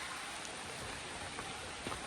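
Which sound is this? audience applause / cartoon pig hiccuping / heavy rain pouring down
heavy rain pouring down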